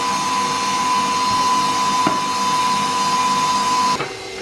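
An electric mixer whisks Caribbean fruit cake (black cake) batter with a steady, high motor whine that runs continuously for about four seconds and then cuts off.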